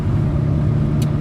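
Engine of an Alfa Romeo 4C, a light sports car, pulls under acceleration with a loud, steady low rumble from inside the car and a brief faint click near the end.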